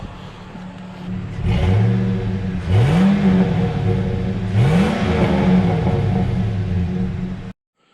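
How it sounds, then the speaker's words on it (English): A pickup truck's exhaust rumbles at idle, then revs twice in rising surges, each throaty roar falling back, before cutting off abruptly. "And now we'll take you around to the back and let you listen to the exhaust."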